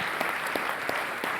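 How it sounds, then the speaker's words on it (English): Brief, steady applause from a conference audience at a policy panel, a dense and fairly faint patter of many hands without a break. "Let's give a round of applause"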